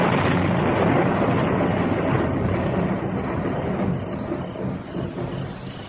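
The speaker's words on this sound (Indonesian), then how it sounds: "Bahkan langit kemudian pijar, dihentak oleh petir yang menggelegar." Thunder in a storm rolls as a continuous low rumble that stays loud and then slowly fades, with no voices over it.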